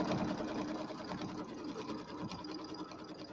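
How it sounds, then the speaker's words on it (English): Embroidery machine stitching quilt batting down onto stabilizer, a steady rapid needle chatter and motor hum running continuously at close range with no talk. "So step number 2 is going to stitch our batting down to the stabilizer here."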